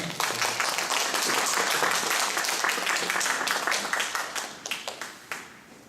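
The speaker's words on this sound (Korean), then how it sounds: "정원유 학생 어머니 나오실 때 우리 큰 박수로 보내주시죠." Dense audience applause fills the room at a steady level during a school admissions information session, then thins into scattered individual claps before fading out.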